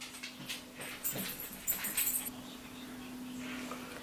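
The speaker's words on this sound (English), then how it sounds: "And here comes my dog." A pet dog named Daffodil whimpers softly, a few faint, thin whines and sniffs in the first couple of seconds, over a steady low electrical hum.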